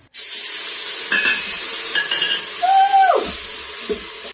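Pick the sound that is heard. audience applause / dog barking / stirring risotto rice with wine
stirring risotto rice with wine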